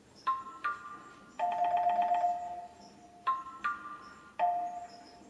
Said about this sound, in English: To support the steel drum notes, I also added some brand new marimba. It sounds like this.